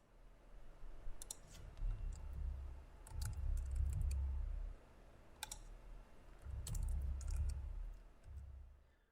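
Computer mouse clicks and keyboard typing come as sharp, scattered taps over a low background rumble, quiet and close with no talking.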